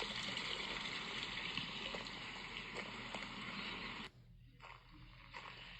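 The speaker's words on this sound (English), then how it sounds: "a little creek coming down into a pool" A small creek tumbles down into a pool beside a hostel on the Appalachian Trail, giving a steady, broad rushing wash of water that dips briefly near the end before resuming.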